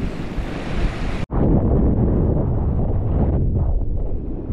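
Ocean surf building as the tide pushes in at a shore fishing spot, a loud continuous wash of waves mixed with heavy wind buffeting the microphone, briefly cut out near the start.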